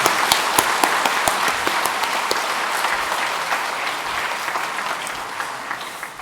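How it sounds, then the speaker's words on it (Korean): A church congregation at an evening missionary-sending service breaks into steady, dense applause from many hands, gradually easing in loudness over several seconds. "우리 다 같이 인사할 때 큰 박수로 함께 하겠습니다"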